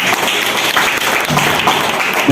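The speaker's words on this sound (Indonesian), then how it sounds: "Luar biasa Mas Aiman, tepuk tangan dong." Audience applause at an Indonesian public speaking seminar, a steady dense wash of clapping that stays loud and close for the whole stretch with no voices over it.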